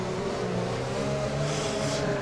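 A race car engine in the sim racing game drones steadily at close range at Circuit Paul Ricard, France, its buzzing tone holding and rising slightly as the car accelerates.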